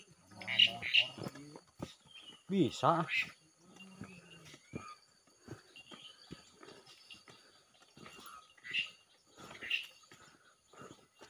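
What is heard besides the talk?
Asian pied starling calling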